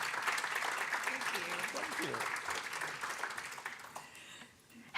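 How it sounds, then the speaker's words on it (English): Audience at a misinformation keynote giving a round of applause, a steady wash of clapping that fades out near the end. "Please welcome Maria with a nice round of applause, everyone."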